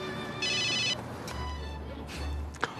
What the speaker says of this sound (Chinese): 活动发起人来电了。